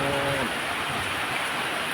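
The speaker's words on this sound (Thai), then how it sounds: "เอฟซีคงได้ยินนะเสียงฝนเนาะ" Heavy rain pouring down over rice fields, a loud, steady broadband hiss filling the whole stretch with a faint tonal hum fading out early.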